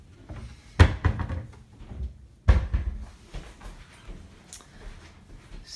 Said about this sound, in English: We do have some pull outs in this drawer for pots and pans.